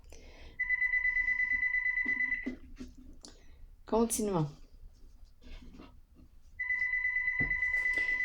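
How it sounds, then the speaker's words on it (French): An electronic telephone ringtone trills loudly in two bursts, one near the start and one at the end, while a person speaks in between, with a short sweeping chime in the middle. "je vais laisser le téléphone sonner."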